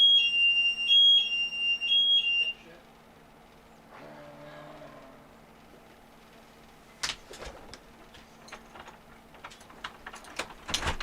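An alarm system going off inside a building in a hunting video game, a repeating electronic beeping pattern for a couple of seconds, then a quiet hum and scattered clicks and rustles.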